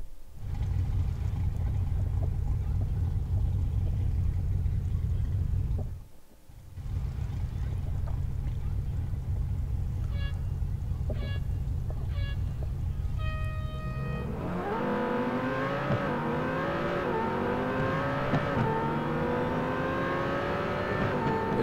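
A Corvette Z51 Stingray in the Real Racing 3 racing game drones at a steady low pitch, cuts out briefly, then climbs through rising revs as it accelerates through the gears, loud and continuous.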